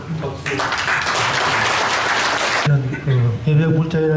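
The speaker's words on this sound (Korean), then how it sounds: "강연을 해주신 강사님께 다시 한번 큰 박수." At a Buddhist forum on national defense, an audience breaks into a burst of applause for the lecturer that lasts about two seconds. Someone speaks into a microphone just before and right after the clapping.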